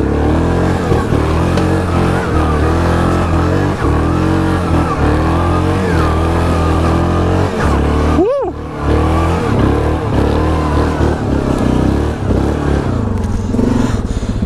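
An ATV engine revs hard and steadily while climbing a steep slope, a loud continuous growl close by with a brief dip and surge partway through, and some rattling and scraping underneath.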